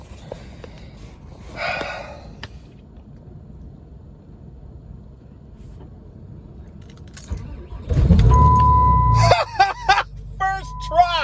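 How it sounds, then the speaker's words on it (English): A Cummins 6.7 diesel in 3°F cold is cranked and fires up late, bursting into a loud low rumble after quiet rustling and a metallic jingle, with a voice speaking over it. "First try, and she cranks over."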